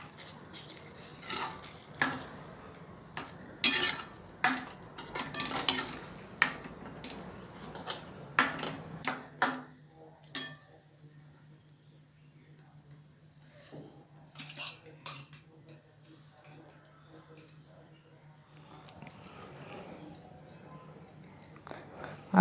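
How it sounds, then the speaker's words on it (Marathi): Crushed paneer bhurji gets stirred in a pan, with sharp spatula scrapes and clanks over a soft sizzle, busy at first and then thinning to sparse knocks against a quiet hum. "आता हलवून घेऊ."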